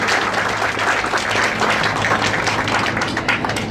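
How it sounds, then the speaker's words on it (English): An outdoor crowd applauds at a groundbreaking ceremony for the Rosemead Boulevard street project in Temple City, with dense, continuous clapping that holds steady for several seconds. "I think you all deserve an applause"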